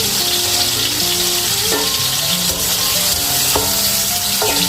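Vegetables for aloo gobhi masala sauté in a pan with a loud, continuous sizzle and hiss, close up and steady throughout, while faint tonal background sound runs underneath and no one speaks.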